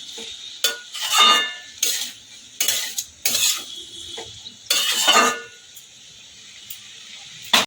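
Prawns and winter vegetables for a Bengali chorchori are stirred in a pan, producing separate bursts of metallic scraping and clattering with short quiet gaps between them.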